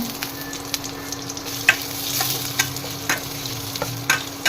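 Onion, crushed garlic, a bay leaf and dried red chilli frying in hot oil, giving a steady close sizzle with occasional sharp pops and spatters throughout.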